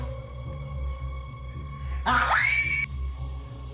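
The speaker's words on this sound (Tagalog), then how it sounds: "May sumisigaw." A single drawn-out scream rises sharply and holds for under a second over a low steady hum, sounding distant and thin rather than close, with no talking.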